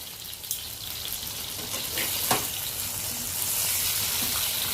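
Fish frying in oil produces a steady, dense sizzle close by that swells slightly over a few seconds, with faint pops and no talking.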